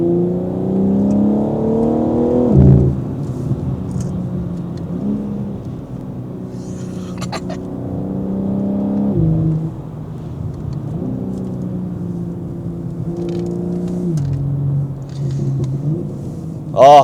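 A BMW G82 M4 with an equal-length X-pipe and OPF delete exhaust revs loudly up close, its engine note rising and falling across several blips and long pulls, then settling to a rumble, with no voices.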